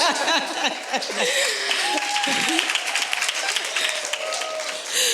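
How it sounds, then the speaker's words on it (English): Audience clapping at a panel discussion on women entrepreneurs in Africa, a busy patter of claps running under voices that talk and call out nearby. "I think I deserve a louder clap because it's hard."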